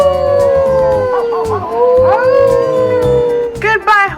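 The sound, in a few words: people imitating a wolf howl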